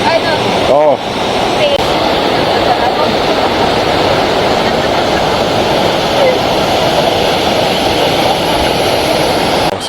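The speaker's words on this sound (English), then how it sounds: "So this is the other side of the waterfalls." Maranum Falls in the Philippines roars as a loud, dense, continuous rush of falling water that fills the whole stretch, with a brief voice and a short tonal sound near the start.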